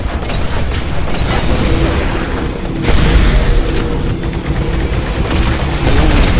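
Satchel charge explosions in the Titanfall video game, a dense barrage of booms and rumbling blasts that swell loudly around the three-second mark and keep rolling throughout.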